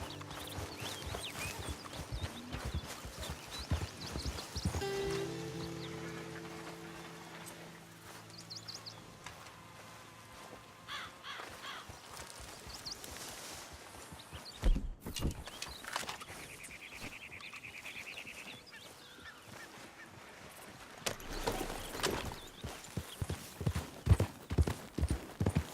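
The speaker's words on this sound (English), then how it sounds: "Hey, get that horse out of here." Horse hooves clip-clop in Red Dead Redemption 2, a long faint run of hoofbeats with game sounds around them and a louder, quicker stretch toward the end.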